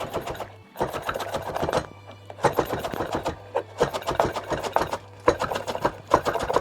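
A knife chops fresh coriander leaves finely on a board, with fast, steady rhythmic strikes in long runs and brief pauses between them, close and fairly loud.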